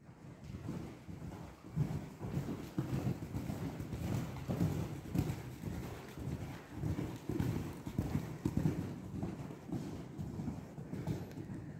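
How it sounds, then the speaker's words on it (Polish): Horse cantering on the sand of a riding arena during a lesson, steady rhythmic hoofbeats repeating throughout at a moderate distance, with light wind noise and no talk. "Poruszamy się w galopie w półsiadzie."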